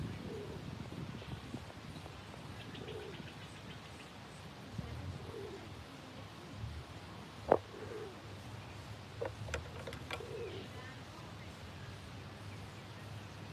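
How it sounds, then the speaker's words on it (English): Pigeons cooing from overhead, soft repeated low coos scattered through a quiet background hum, faint and somewhat distant, with a few sharp clicks and knocks nearby. "We got pigeons."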